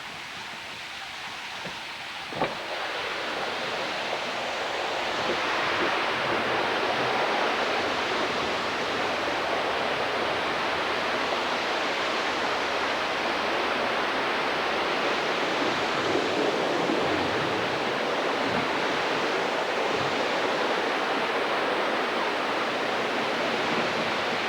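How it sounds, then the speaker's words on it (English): Water rushes steadily through the opened gate of a village water wheel, a dense, continuous roar that swells slightly after a brief click and then holds, with no talk. "to work the water wheel, you must lift this gate to let the water through"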